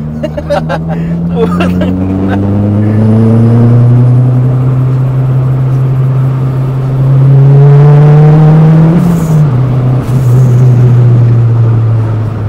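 A Toyota Corolla engine hums steadily and climbs to a high, strained pitch near redline before dropping back, loud and close, with voices faintly underneath.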